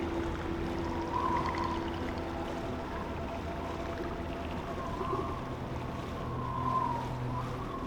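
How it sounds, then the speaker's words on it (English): Ancient air bubbles fizz and crackle as the face of an Alaskan glacier melts into the sea, a soft, steady hiss of white noise with faint watery swells beneath it. "the white noise of trillions of ancient air bubbles escaping as its face melts into the"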